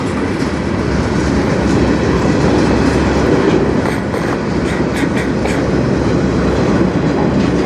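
Freight train 492 carrying empty truck frames rolls past close by on the Strathroy Subdivision, a loud, continuous rumble with faint clickety-clack of wheels and no voices.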